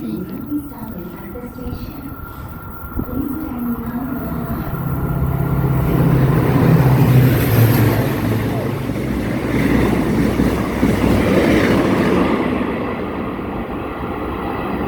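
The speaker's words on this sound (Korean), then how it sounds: "지금 열차가 들어오고 있습니다" A train rumbles through Jiksan Station in Korea, swelling into a loud roar that fills the middle, then eases, with voices talking over the noise.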